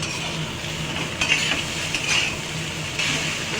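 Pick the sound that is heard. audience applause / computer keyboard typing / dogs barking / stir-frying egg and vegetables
stir-frying egg and vegetables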